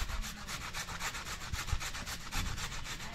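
Beetroot rubbed against a kitchen grater in quick, even rasping strokes, close and fairly quiet, repeating steadily with no talk.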